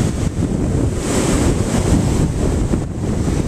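Surf breaking on the beach at Perdido Key on a hot, sunny day, with steady wind buffeting the microphone and a continuous loud wash of waves and no voices.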